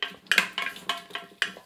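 A spatula works ginger and dried chili around a hot wok for pork leg vinegar, giving quick close clinks and scrapes of metal in a stuttering rhythm, with no sizzle standing out.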